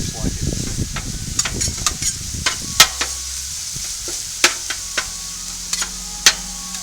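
Metal spatula chopping and scraping hamburger meat on a Blackstone flat-top griddle: sharp, irregular clacks and scrapes over a steady low sizzle, fairly close, with a faint murmur of speech at the start.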